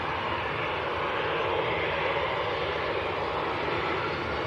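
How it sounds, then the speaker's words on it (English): A fixed-wing airliner departs Manchester Airport outbound to Oslo, its engines giving a loud, steady broadband roar that holds throughout without letup. "This flight is outbound to Oslo."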